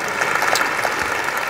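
Audience applause at a school district state-of-the-district address, a loud, dense burst of clapping from a large crowd, steady throughout with no speech.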